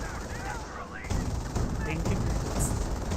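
Infantry gunfire in a Company of Heroes battle, a steady mid-level crackle of bullets that rises after the first second and carries on through the clip amid battlefield noise.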